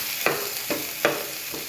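A spoon stirs pieces of ash plantain frying in oil in a pan for a curry. Four separate scraping strokes sound close and evenly spaced over a soft, continuous sizzle.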